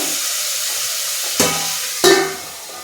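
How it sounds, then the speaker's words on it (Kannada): Tomatoes frying in oil in a pan for bitter gourd palya: a soft steady hiss of frying broken by two sharp metallic clinks of a utensil on the pan, close, with no talk. "ಈಗ ಟೊಮೊಟೊ ಎಲ್ಲ ಸ್ವಲ್ಪ ಫ್ರೈ ಆಗಿದೆ"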